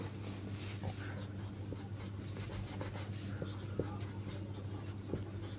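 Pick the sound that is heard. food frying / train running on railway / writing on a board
writing on a board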